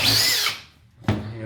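A power drill drives screws into a wooden door lining: a whining motor run that winds down, then a brief restart near the end, fairly close.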